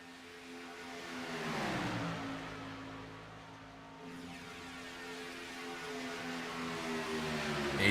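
Race cars roar around Daytona during a night race, a close pack of engines droning and rising in pitch as they accelerate, a steady loud mechanical wail throughout.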